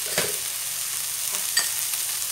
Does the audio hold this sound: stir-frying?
yes